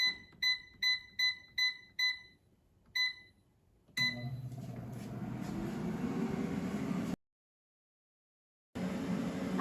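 An air fryer's control panel gives a run of short, evenly spaced electronic beeps while temperature and time are set, then a pause and two more beeps, followed by the fan's steady whir starting up.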